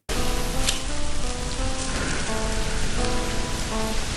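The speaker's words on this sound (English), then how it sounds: "It's a rainy night." Steady, dense rain pours down as a sound effect in a text-to-speech story, a loud continuous hiss with faint tonal hum beneath, running unbroken for several seconds without talk.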